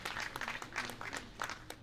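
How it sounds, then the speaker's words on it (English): Audience at a Nigerian foreign policy event applauding an honourable guest, a dense, even patter of many hands clapping throughout the short moment, fairly faint. "Please, a lot of applause for honorable."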